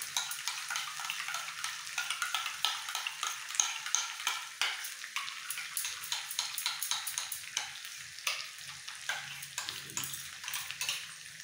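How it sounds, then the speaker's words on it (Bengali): Yogurt is beaten with a spoon in a small bowl for a vegetarian cauliflower and potato curry, giving quick, light, irregular clinks and soft wet scraping strokes, close and fairly quiet, with no one speaking. "2 চামচ দই তুলেছি, এর মধ্যে এটা ভালো করে ফেটিয়ে এই সময় দিয়ে দিতে হবে"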